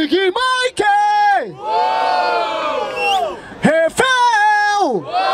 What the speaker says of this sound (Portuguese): Barulho para as rimas do Big Mike!